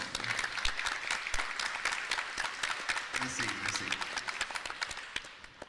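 An audience at a science-fiction film festival applauds an illustrator, with steady, moderately loud clapping throughout and a voice briefly offering thanks over it.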